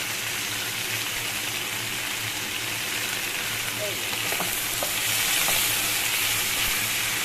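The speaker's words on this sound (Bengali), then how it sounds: "এই দেখো সবজিগুলো ভাজা ভাজা হয়ে গেছে" Vegetables sizzle steadily in oil tempered with panch phoron (five-spice), a close, even frying hiss that swells slightly toward the end, with a few faint stirring taps.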